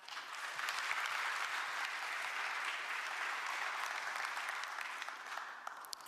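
A crowd at a national government policy briefing applauds as a committee member is introduced, a dense, even roar of clapping that swells early, holds steady, and tapers slightly near the end.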